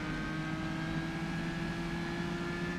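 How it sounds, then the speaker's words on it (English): A race car engine on the Isle of Man Time Trial holds a loud, steady tonal whine from a distance, with no clear breaks for downshifts. "You can hear the downshifts and all that stuff as he tries to keep the car under control."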